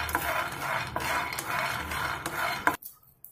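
Peanuts roast in a metal pan on a gas stove, a spatula scraping and stirring with a steady rustling rattle and sharp metallic knocks against the pan. A final clack is followed by near silence.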